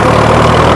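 Preet 6049 tractor engine running, a loud, close, steady diesel rumble held evenly for under a second.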